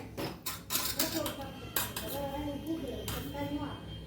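Garlic being pounded for a chutney gives a series of close, sharp knocks and clinks at an uneven rhythm, heard under a person speaking.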